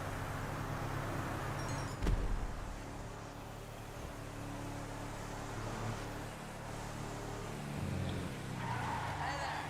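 A car in a video game drives with a steady engine drone and road noise, with a brief skid or scrape about two seconds in, continuous and moderately loud with no talk.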